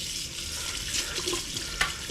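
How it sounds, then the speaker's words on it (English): A tap runs steadily to rinse freshly caught fish at Testwood, making a continuous hiss of flowing water with a brief splash near the end and no talk. "Water back on"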